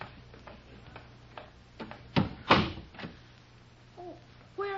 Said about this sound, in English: I'll close the door after me.